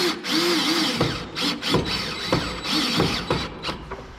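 A manual screwdriver drives screws into a plywood bottom panel, giving close, rhythmic ratcheting clicks and creaks in repeated short bursts with brief pauses between turns.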